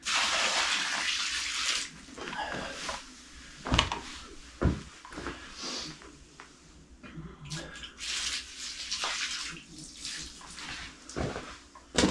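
Liquid termite treatment pours and splashes from a bucket into a soil trench beside an old log cabin, a gushing wash of liquid broken by a few knocks and thumps of the bucket, close and fairly loud.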